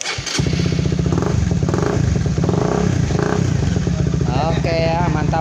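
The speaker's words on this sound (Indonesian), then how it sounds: "kita coba untuk bagian dinamo starternya. Apakah dia bisa hidup?" A Honda CBR motorcycle fitted with a Sonic starter motor cranks, fires and settles into a loud, close idle, then revs up in several rising bursts near the end, with someone talking over it.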